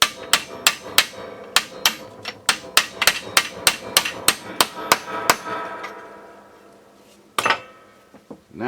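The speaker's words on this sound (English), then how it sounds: "I got a bigger hammer and I got it to start moving" A hammer strikes a trailer brake actuator on a 2009 Ranger boat trailer in a rapid, loud, evenly spaced series of about seventeen sharp metallic blows. After a short pause come a few more isolated hits.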